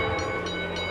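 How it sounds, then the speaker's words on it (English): American locomotive whistle in the Trainz railway video game: a sustained, loud tonal blast over a steady rumble of train noise, with no voices. "an unknown whistle was heard, followed by a ringing bell that woke up the others from their slumber."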